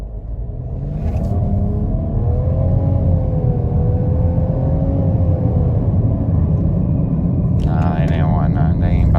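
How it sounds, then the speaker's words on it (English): A 2022 Nissan Rogue VC-Turbo engine revving in neutral at night, a loud, steady low rumble with a rising and falling engine drone and a brief higher-pitched sound near the end. "We'll put it in neutral and rev up on them"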